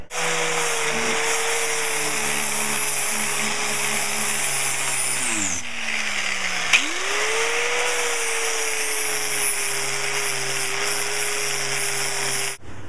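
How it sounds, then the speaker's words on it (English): An angle grinder fitted with an 80 grit sanding disc working a steel longsword blade, a steady high motor whine that dips and recovers midway as the disc loads, close and continuous without talking. "I'm switching from my grinding disc to a 80 grit sanding disc"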